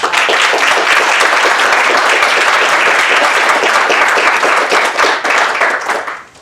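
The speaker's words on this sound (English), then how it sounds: "They deserve a round of applause" Loud, dense applause from a school audience at a middle school moving-up ceremony for 8th graders, sustained at full strength for several seconds before tapering off at the end.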